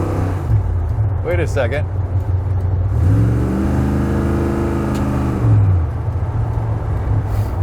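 A truck engine with a suspected transmission fault revs and drops as it shifts up through first, second and third gears, a loud mid-pitched rumble rising and falling under a voice.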